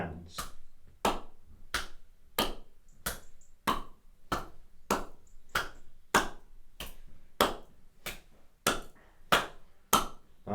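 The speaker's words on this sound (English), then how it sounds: "we're going to clap the hands together, front and back, but the hands are going to be cupped" Cupped hands clap together front and back in a QiGong exercise, making about eighteen hollow, evenly spaced claps at a slow, steady rhythm, close up and clear.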